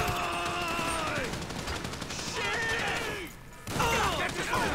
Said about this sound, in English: And now we'll give that grenade thing a shot again.